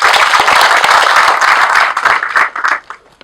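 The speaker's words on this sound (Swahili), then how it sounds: "Tuwapigie makofi" A crowd of soldiers' audience claps in sustained, dense applause that fills the space, then thins into scattered claps and fades out near the end.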